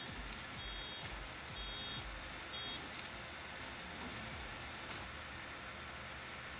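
A full baler beeps in a repeating electronic warning pattern within Farming Simulator 19, short tones recurring over steady machinery and engine rumble, with no talking.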